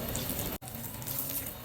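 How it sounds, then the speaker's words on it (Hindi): Water pours in a continuous stream as a little is added to batter for dahi bara, broken once by a brief gap before the flow resumes, steady and close. "इसमें जाएगा थोड़ा सा पानी"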